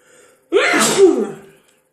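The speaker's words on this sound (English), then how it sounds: "Sneezing." One loud, close sneeze, a sharp burst lasting about a second, following a faint breath.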